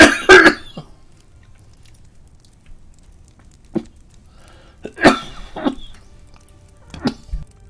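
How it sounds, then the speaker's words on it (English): A person coughs in several harsh bursts, a cluster near the start, a single cough in the middle and another run of coughs toward the end, close and loud against a quiet background. "my apologies for the coughing"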